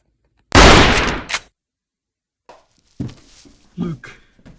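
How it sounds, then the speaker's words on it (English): A gunshot is fired up a home fireplace chimney: one loud, close blast with a short tail, followed by quieter thumps and a voice. "I must have knocked it out of the chimney with the gunshot."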